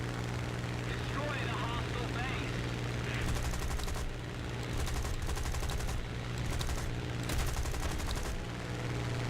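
British aircraft in War Thunder air combat, a steady engine drone with several bursts of rapid machine gun fire, loud and near, while someone talks over it.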